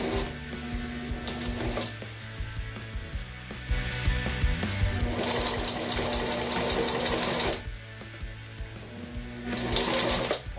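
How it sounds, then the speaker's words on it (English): A sewing machine stitches webbing onto a cork fabric stem bag in several mechanical bursts with clattering, geared rhythm. It sounds close and fairly loud, with short pauses between runs and no talk. "I'm just going to add a couple of stitches, probably about a third of the way on each side"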